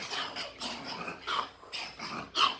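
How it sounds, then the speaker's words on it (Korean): A dog, a white Jindo-type mutt, gives short breathy barks and whiny growling sounds in bursts, fairly close but not very loud, with no voices over it. "만져달라고 계속 짖네."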